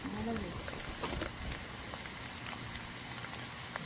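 Steady soft patter of light rain, a fine continuous hiss with faint scattered drops, no voices.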